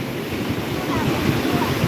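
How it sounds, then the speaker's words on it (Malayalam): Big sea waves surge and crash steadily onto Vettukad beach, a continuous loud roar of surf with wind buffeting the microphone throughout. "ഇപ്പൊ വലിയ തിരമാലയാണല്ലോ ചേച്ചി വന്നത്"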